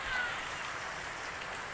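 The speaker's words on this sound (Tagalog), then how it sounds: "malakas ang ulan, no?" Heavy rain pouring down outside a school, a dense steady hiss of falling water with no pauses.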